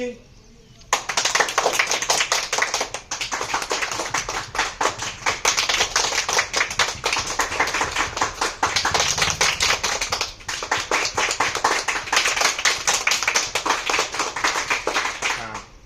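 A group of schoolchildren performs a rain clap, fingers tapping palms to imitate rainfall, producing a dense, steady patter of many small claps that starts abruptly and continues evenly for about fifteen seconds.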